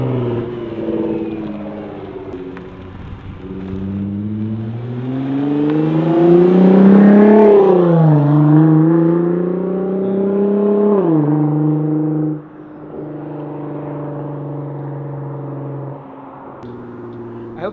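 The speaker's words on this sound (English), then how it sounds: "I hope the camera picks up the little bit of turbo spool at the end." A Nissan GT-R with a 4.5-inch titanium exhaust revs hard, its exhaust rising to a loud, raspy peak before easing off, then idling low with a faint whistle of turbo spool at the end.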